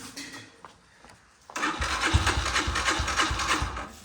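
On a cold, foggy village morning, a motorcycle engine turns over after some quiet, faint clicks and then catches, settling into a loud, rough, steady chugging idle close by.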